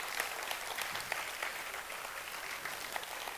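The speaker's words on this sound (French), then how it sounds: "Patricia, encore une fois, un tonnerre d'applaudissements pour mon assistante, s'il vous plaît." An audience at the Miss Elégance Limousin 2017 pageant applauds, producing steady, dense clapping that holds evenly throughout and sounds moderately distant.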